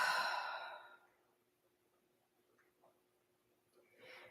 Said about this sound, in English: And then open the mouth and breathe out.